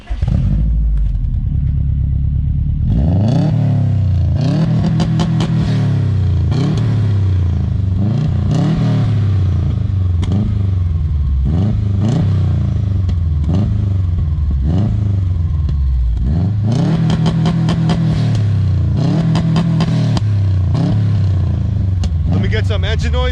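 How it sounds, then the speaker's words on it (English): A warmed-up 2005 Subaru WRX STI parked with its exhaust blipped repeatedly, loud close revs rising and falling in quick bursts after a short idle, with voices now and then. "You want to give us a nice little exhaust clip?"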